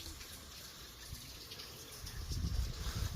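Steady rushing water pours from the overflow of a stream-fed pool beside a wall, a continuous faint wash that swells a little louder toward the end, with no voices.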